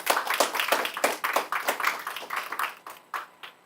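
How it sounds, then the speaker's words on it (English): A school audience claps for students' families during a State of the Schools address, a steady patter of many hands that thins and trails off toward the end, with no talk over it. "we should clap it up for our families"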